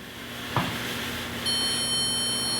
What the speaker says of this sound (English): You hear the beep and the arrow is pointing on the wall